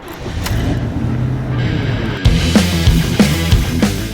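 A 1990 Chevy G-10 van's engine runs loud and close, with a steady low rumble and several short revs bumping up in the second half and no one talking.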